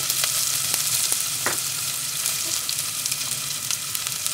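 Leftover onions frying in oil for koshari, a dense continuous sizzle close up with a few faint stirring clicks.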